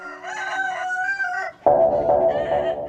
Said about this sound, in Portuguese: eu estou numa linda granja cercado por galinhas